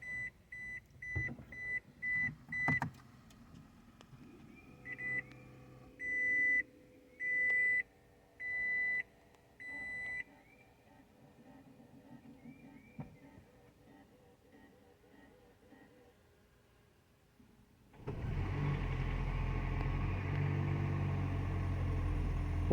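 A series of electronic beeps chimes out, then a second-generation Toyota Prius's engine turns over and settles into a steady, loud idle.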